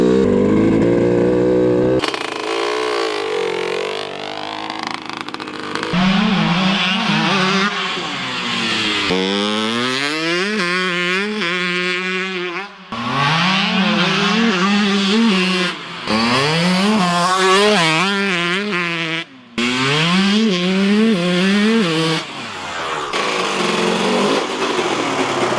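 Kawasaki KX125 two-stroke motorcycle engine on a test run, loud and close, screaming through repeated rising revs and brief drops back to a buzzing idle, with no voices.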